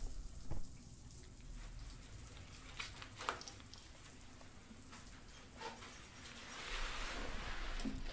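A shower runs in a first-person horror game: a steady, soft hiss of falling water, faint and even, with a few small knocks and a gentle swell near the end.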